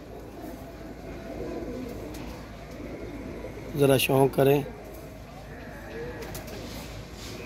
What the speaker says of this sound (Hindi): ये कबूतर आ गया वो कल वाला